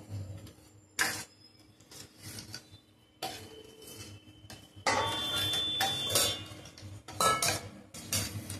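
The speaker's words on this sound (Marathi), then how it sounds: "आपल्याला असं फिरवत राहावं लागेल, नाहीतर ती साखर जर भांड्याला लागली तर ते आपलं जळू शकते।" A spoon scrapes and clinks against a steel pot while sugar syrup cooks, giving repeated metallic stirring strokes of uneven loudness close by, with no voice heard.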